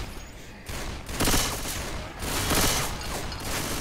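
Rapid bursts of gunfire shooting zombies in Left 4 Dead 2, several loud fusillades in quick succession with short pauses between.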